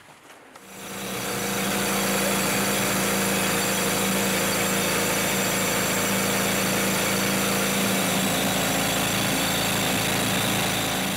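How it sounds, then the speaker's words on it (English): A drill bores holes into bedrock in an Afghan gem mine, a loud continuous whining engine drone that starts abruptly and holds steady throughout. "To get farther into the bedrock, they drill holes and fill them with dynamite."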